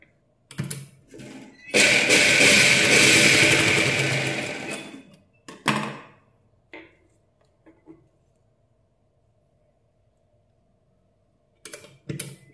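A sewing machine runs in one steady burst of about three seconds while stitching a joint in a cut fabric strip for a katori blouse, with shorter handling noises before and after and then a long quiet stretch.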